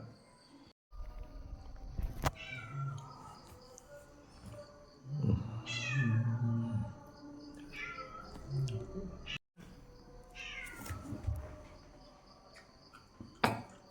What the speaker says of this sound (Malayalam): നമ്മുടെ പൂച്ച സാർ നടന്ന് കരയുന്ന വെച്ചാൽ